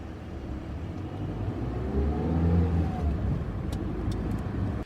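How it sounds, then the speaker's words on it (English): A car turns into a driveway and rolls up to a house, its engine rumbling and swelling as it nears, then holding steady before cutting off at the end, with no voices. "His car turns into the driveway up to the house."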